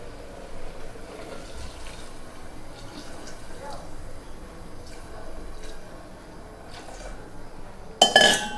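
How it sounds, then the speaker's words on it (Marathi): Hot water poured into a pot of village-style chicken masala. Quiet pot clinks and small kitchen noises come first, then a loud, close rush of pouring water bursts in at the very end. "आता आपण ह्याच्यामध्ये पाणी ओतणार आहोत"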